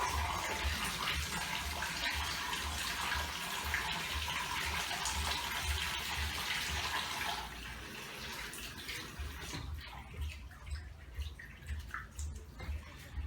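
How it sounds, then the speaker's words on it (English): Running tap water pours steadily into a sink while hands are washed, a loud continuous gush for several seconds that then thins into irregular splashes and drips. "So you always want to wash your hands"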